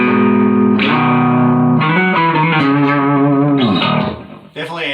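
A bass guitar plays through a ProCo Lil Rat distortion pedal, with loud, sustained, gritty distorted notes shifting in pitch. The final note fades before a short new attack.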